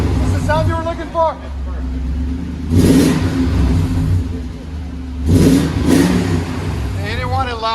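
Inside the cab of a Toyota Tundra 4.7L V8 with aftermarket exhaust, a steady low idle swells into two rev bursts, one early and a doubled one later, while people talk over it at the start and end.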